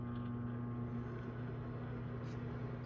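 A microwave oven runs with a low steady electric hum and constant drone, unchanging throughout with no talking.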